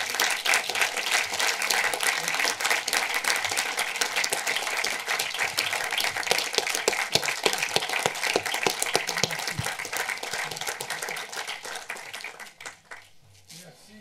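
An audience applauds to welcome actor Robert Hossein on stage at a Frankfurt film talk, dense sustained hall clapping that holds steady then tapers off into quiet near the end.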